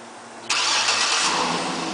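A 2007 Cadillac Escalade AWD starts by remote start: after a quiet moment the starter catches and the engine fires with a sudden surge, then settles into a steady idle nearby.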